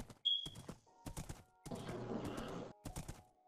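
Horse hooves clip-clop in the Minecraft video game, a few short bursts of steps with a brief high tone and a whinny-like stretch in between, fairly faint and heard alone.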